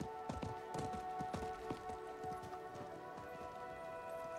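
Faint clip-clop of horse hooves in the video game Diablo IV, a steady rhythmic stepping that fades slightly, over a soft ambient hum.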